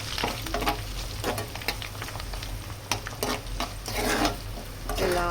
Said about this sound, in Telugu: ఆనియన్స్ వేసుకొని ఒకసారి అయితే కలుపుకుందాం